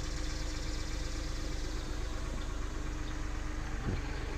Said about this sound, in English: here's the Detroit 371 that powers the unit